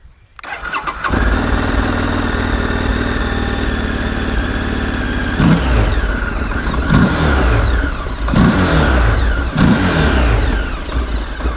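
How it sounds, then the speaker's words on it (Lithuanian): A motorcycle engine starts, idles with a steady loud drone and a noticeable air-intake roar, then gets several short throttle blips that rise and fall at regular intervals. "prieš tai turim paklausyti, kaip šis motociklas skamba"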